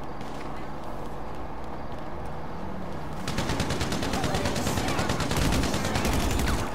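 Rapid automatic gunfire in GTA 5 Online free mode, a dense rattling burst that starts partway through and keeps going loud and close over a busy game background.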